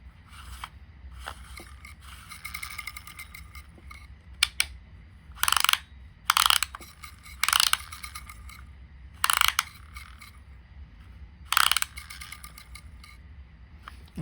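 A Perrine No. 80 automatic fly reel is worked by hand on a bench, with fine ratcheting clicks from its spinning mechanism followed by several sharp, loud mechanical bursts of winding and locking, close up and without talk.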